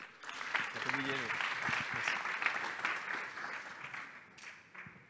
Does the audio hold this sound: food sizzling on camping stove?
no